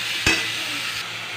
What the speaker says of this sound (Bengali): মাংসের কিমাটা হালকা ভেজে নিচ্ছি